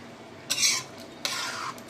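A spoon scrapes and stirs spice powder through ridge gourd kootu in a pot, two short, fairly quiet stirring strokes against a calm kitchen background with no talk.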